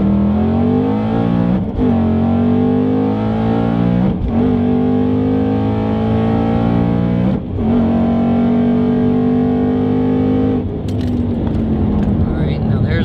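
A 650hp Mustang's engine revs up through the gears, rising in pitch, then dropping at each shift, loud and sustained from inside the cabin.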